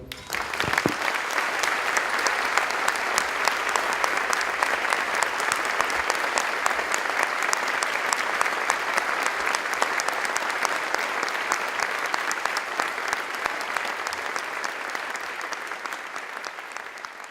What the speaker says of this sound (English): join me in giving a jolly big round of applause and a cheer